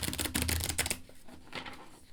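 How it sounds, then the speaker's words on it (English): A tarot deck printed on old US Games cardstock is shuffled by hand, giving a quick burst of crisp riffling flutters that fades into softer card taps, close and with no talking. "Let me show you how it shuffles."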